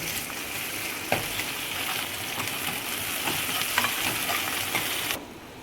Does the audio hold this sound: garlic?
yes